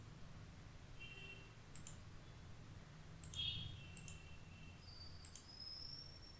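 A computer mouse clicks a few times, sharp and faint against a quiet low hum, spaced irregularly as if selecting items on screen.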